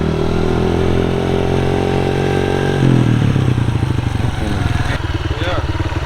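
A Honda CRF150 dirt bike engine idles with a steady buzzing drone, then drops into a rougher, lumpy chug, close and loud, with people talking over it.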